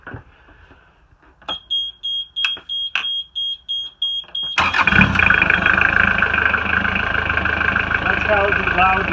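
A series of short electronic beeps sounds, then an engine cranks and roars to life, settling into a loud, steady running rumble.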